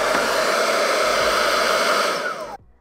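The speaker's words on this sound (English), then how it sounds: "When it comes to blow drying, I always blow dry outward." A hair dryer blowing hot air while straight hair is blow-dried outward with a round brush, a loud steady whoosh with a constant whine that cuts off abruptly near the end.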